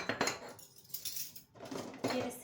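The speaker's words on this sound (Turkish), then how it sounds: "Bir de kaşıkları atabilirim" Metal spoons are dropped into a dishwasher rack, giving a few quick bursts of clinking and jangling with short pauses between them, close and fairly quiet.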